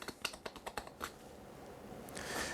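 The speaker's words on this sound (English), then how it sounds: "use a small chisel to clean that out" A small chisel cleans waste from a hand-cut mortise in wood, giving a quick run of about eight sharp, close taps and scrapes, followed by a softer, steady rasp that builds toward the end.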